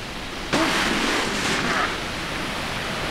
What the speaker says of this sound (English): a cute little outro with ocean sound effects and weird grunting vocal